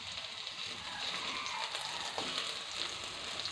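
Chopped onions frying in hot oil in a wok, a faint steady sizzle with soft crackles, close but quiet, no talk.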